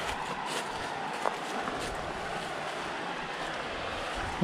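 A creek flows beside a campsite, a continuous rushing wash of water mixed with wind buffeting the microphone, steady and moderately close, with no one talking.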